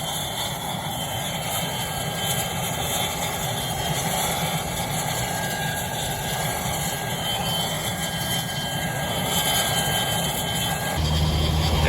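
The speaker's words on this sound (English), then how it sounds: "Crop duster starting up here." A crop duster airplane's engine starting up at an experimental aircraft fly-in, a steady, loud broadband roar that holds for the whole stretch and swells slightly near the end, with no talking.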